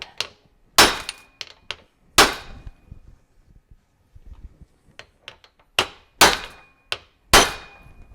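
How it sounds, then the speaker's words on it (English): Two metal hammers strike each other in loud, ringing clangs, several sharp hits spaced irregularly with quieter taps and knocks between them, during a Jeep TJ front driveshaft rebuild. "Sometimes you should never strike a hammer with a hammer"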